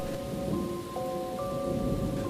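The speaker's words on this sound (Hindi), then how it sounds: "बारिश आज कुछ ज्यादा ही तेज थी।" Heavy rain pours steadily at night, a dense wash of hiss and patter, moderately loud and continuous, with a faint tonal hum in the background.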